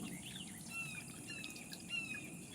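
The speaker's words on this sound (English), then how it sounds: "y'all hear that hawk?" Faint, thin bird calls drift over quiet outdoor countryside ambience, with a couple of high, drawn-out cries like a hawk's rising above soft insect and background noise.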